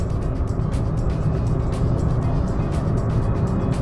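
A cheap new car pulls onto a main road at full throttle, its engine giving a loud, steady, strained drone mixed with road noise inside the cabin.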